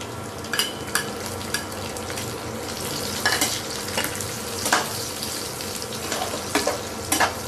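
Onions frying in a pan with garam masala and green chillies going in, a steady sizzle broken by sharp clicks and scrapes of a spoon stirring, close and fairly loud, with no talking.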